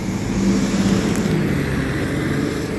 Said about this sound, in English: you hear the city buses